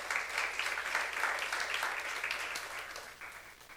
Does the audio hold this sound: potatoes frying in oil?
no